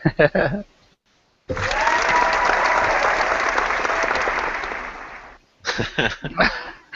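Speech breaks off, then a few seconds of loud, sustained crowd clapping fill the gap before talking resumes.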